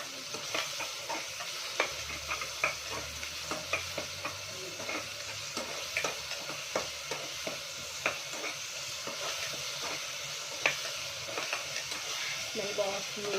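Freshly ground ginger garlic paste frying in a pan for taro curry, a steady sizzle broken by repeated ladle scrapes and taps, with someone talking over it.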